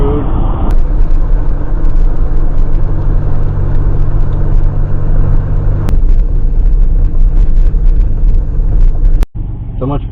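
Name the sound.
Pontiac Fiero GT driving on road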